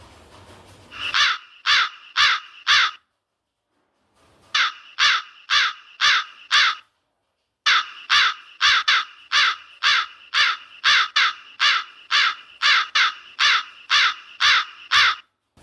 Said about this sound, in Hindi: कौवा बोला का का का